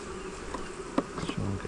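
Honey bees buzz steadily during a nucleus colony transfer into a new hive, a soft continuous drone with a few brief louder passes close by.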